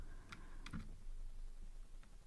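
Computer keyboard being typed on at a desk, a few quick soft key clicks in a short burst, close and quiet.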